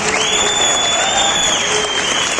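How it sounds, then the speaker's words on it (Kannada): An audience at a Vestige business event claps steadily and loudly throughout, a dense, even applause with a faint ringing tone running beneath it. "ಒಂದು ಜೋರಾದ ಚಪ್ಪಾಳೆ ಆಗಬೇಕು."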